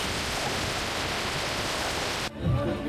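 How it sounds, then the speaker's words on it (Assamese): Heavy rain falls steadily during a wet-season motorbike ride, a dense continuous hiss that cuts off abruptly near the end, leaving a quieter background with low rumbling. "মূৰে চুৰে গোটেই পানী বৰষুণ দিয়ে আছে"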